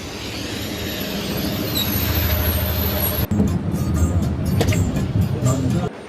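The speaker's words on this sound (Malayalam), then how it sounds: "അപ്പോൾ നമുക്കുള്ള ബസ് വന്നു കേട്ടോ നമ്മൾ ഈ ബസ്സിന് കയറിയിട്ടാണ് പോകുന്നത്" Bus pulling up at a town stop, a loud idling engine rumble with a sharp brake hiss partway through, then door and boarding clatter over continuing road noise.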